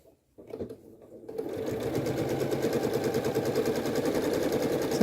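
Janome sewing machine running a quilting stitch on fabric, a fast, steady mechanical rattle that starts after a brief pause and continues loudly to the end.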